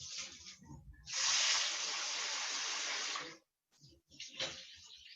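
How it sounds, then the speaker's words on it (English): Water runs steadily over rice being rinsed for rice and peas, a loud continuous rushing spray lasting about two seconds between quieter splashy moments, then a brief pause and more trickling. "just give your rice a good rinse"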